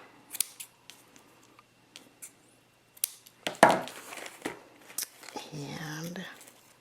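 Scissors snip through ribbon or fabric for a small handmade heart-shaped lunch bag, a few crisp close cuts followed by softer rustling and handling, with a voice talking briefly around them.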